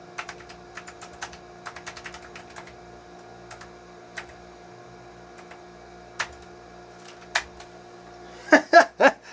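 Typing on the keyboard of a Compaq Portable II computer: scattered clacking keystrokes, first in quick bursts, then single isolated presses, ending in a few louder, heavier key hits nearby.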